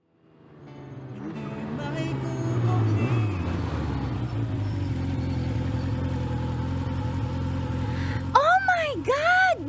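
A motorcycle engine starts up and revs, climbing into a loud, steady mid-pitched drone. Near the end, quick sweeping rises and falls break out on top of it, and speech is mixed underneath.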